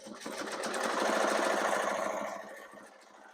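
A Ricoma EM1010 commercial embroidery machine runs a test after its timing is adjusted, giving a steady, rapid mechanical chatter at moderate level that swells briefly and then fades, with no talking.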